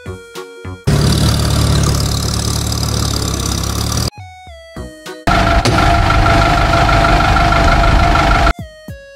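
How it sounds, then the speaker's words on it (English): A tractor's heavy engine rumbles loudly in two long stretches, broken by brief gaps filled with short tonal sounds. "Tractor."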